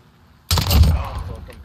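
Call of Duty Modern Warfare gunfire during a hardcore team deathmatch on Arklov Peak, a sudden loud burst of shots that rings out and decays over about a second.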